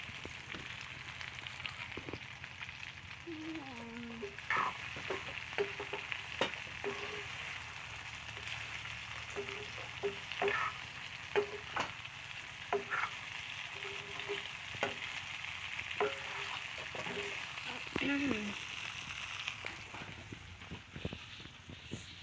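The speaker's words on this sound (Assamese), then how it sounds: "গাহৰি অকণমান আনি ভাজিছোঁহি" Pork frying in a pan gives a steady, close sizzle for over twenty seconds, with occasional louder pops and scrapes of stirring and faint tonal sounds in the background.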